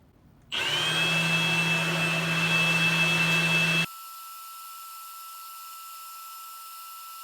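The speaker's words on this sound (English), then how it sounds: "I'm gonna put the leaf blower on and spray it with soapy water." A motor starts with a sudden loud whine and runs steadily for a few seconds, then drops to a quieter, thinner hum that continues.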